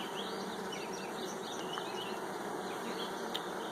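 Honeybees buzz at a hive in a dense, continuous, close hum with a few sharper passes of individual bees near the ear, moderately quiet and without voices.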